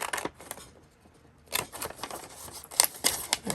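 Scissors snip through scrap paper in several quiet, crisp cuts close by, with short pauses between bursts of slicing.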